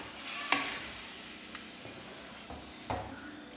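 Oil mango pickle with vinegar being stirred in a pan, a few scraping spoon strokes against the metal over a faint sizzle, close and moderately quiet.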